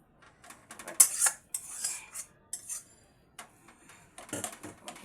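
A cooked sour, chilli and sweet radish dish is poured out and scraped from a pan with a spoon, giving a string of close metallic clinks and scrapes in irregular bursts with short pauses.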